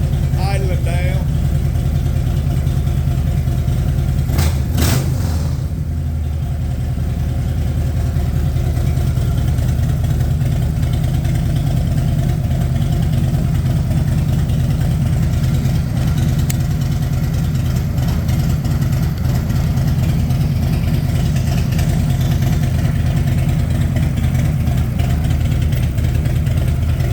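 A chopper motorcycle engine idles down after warming up, a steady low rumble holding throughout with a brief louder burst early on, close and continuous.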